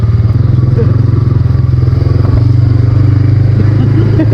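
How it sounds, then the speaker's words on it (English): Off-road motorcycle rattling on a trail ride, with a loud, close engine idling in a steady low throb and a rapid mechanical rattle and clatter running through it. "You hear that rattling?"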